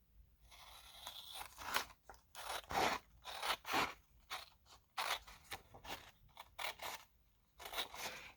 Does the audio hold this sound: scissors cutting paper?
yes